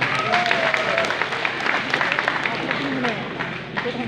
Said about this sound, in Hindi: जोरदार तालियां हो गया